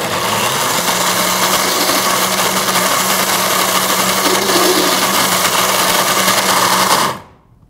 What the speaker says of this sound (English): And then just put the blender on.